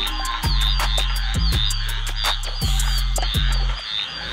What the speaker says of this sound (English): those are pig frogs